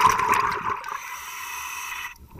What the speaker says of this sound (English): Oh, there's his bubbles.